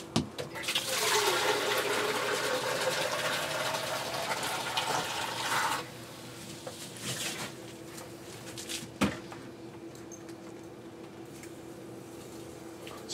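Water rushing into a calcium reactor unit for an aquarium, a steady loud gushing and splashing for several seconds that then drops to a quieter trickle and hum.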